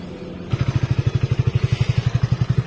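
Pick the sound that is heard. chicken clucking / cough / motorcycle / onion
motorcycle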